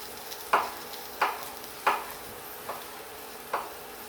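Garlic and onions sauté in a pan for ginisang upo, a Filipino bottle gourd dish, under a soft continuous sizzle, while a utensil scrapes the pan five times at uneven intervals, close and with no talking.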